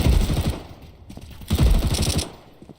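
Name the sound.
MP7 gunfire in video game Counter-Strike 2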